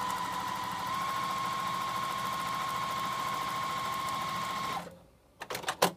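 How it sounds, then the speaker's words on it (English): A sewing machine runs steadily for about five seconds stitching a sleeve gusset, a close, continuous mechanical whir, then stops and a few quieter handling clicks follow. "Sew to the end of the sleeve."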